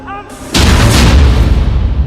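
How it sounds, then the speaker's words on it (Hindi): A sudden, powerful blast in Gaza rips through after a brief quiet moment, followed by a loud, rumbling roar and crackling debris that sustains to the end. "डबल धमाका, डबल हमला"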